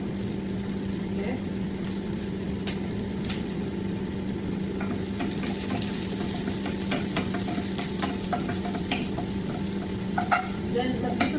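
Garlic sautéing and being stirred in a pan for pasta, a steady low sizzle with scattered clicks of utensil against metal throughout, close and continuous, with faint talk underneath.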